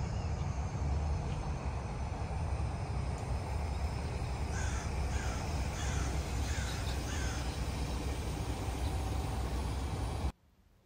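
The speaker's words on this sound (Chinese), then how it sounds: "小鸟的叫声，乌鸦的叫声" Crows caw in a short repeated series over a steady outdoor background with distant traffic rumble, the calls clear but moderately far, then the sound cuts off near the end.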